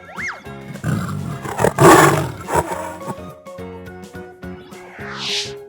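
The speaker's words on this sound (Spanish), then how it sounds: "Tigre." A tiger roars loudly and close over upbeat children's background music, the main burst swelling and fading in the middle, with no talking.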